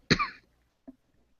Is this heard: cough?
yes